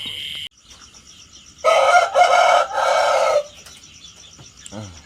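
A rooster crows loudly nearby in one long, wavering call, with faint chirps and a brief cluck around it.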